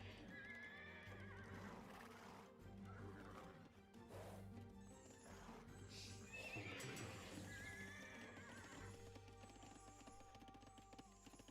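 Horses whinny and neigh in Age of Empires 2 while knights and cavalry are trained, with the calls rising over clip-clopping hooves and busy battle noise in the game.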